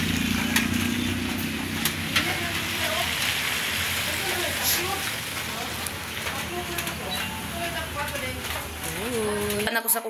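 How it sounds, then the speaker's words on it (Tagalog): Light drizzle patters steadily on outdoor surfaces at a rural home, a soft continuous hiss with scattered drops, while people talk and voices rise intermittently over it. "Ambon siya guys, ambon siya."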